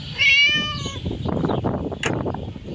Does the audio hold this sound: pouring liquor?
no